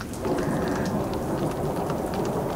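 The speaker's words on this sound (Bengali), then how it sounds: "বৃষ্টি সমানে পড়ছে" Steady, heavy rain pours down in a dense, unbroken hiss with a low rumble beneath, loud and close as a storm effect with no voices.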